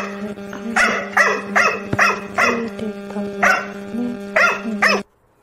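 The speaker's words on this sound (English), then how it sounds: "Oh, Takiri, I can only hear your dog, dear." A dog barks repeatedly in steady, loud bursts over a constant background hum, heard through an online class call; the barking fills nearly the whole stretch and stops abruptly.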